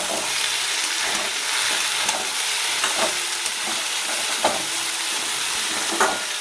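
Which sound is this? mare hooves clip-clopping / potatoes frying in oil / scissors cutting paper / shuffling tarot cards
potatoes frying in oil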